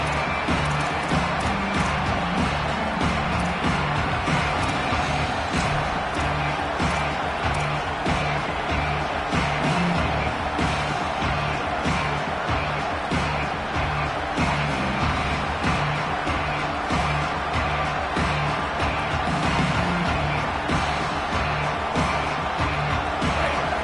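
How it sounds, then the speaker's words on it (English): Football stadium crowd roaring a loud, sustained welcome for the visiting team around a kickoff, dense unbroken cheering and whoops filling the whole span with a steady thick wash of noise. "This crowd bringing an ear-splitting welcome to their visitors"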